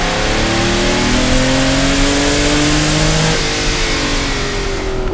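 A Dallara-developed four-litre engine in a classic Ferrari or Lamborghini under restoration revs loudly and close by, its pitch climbing steadily through a sustained run, then dropping briefly before rising again.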